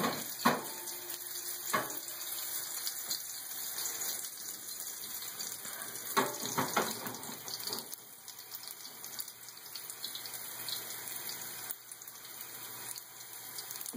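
Shami kabob patties fry in a pan with a steady, close hiss of sizzling oil, broken by a few sharper pops and clatters near the start and again around the middle.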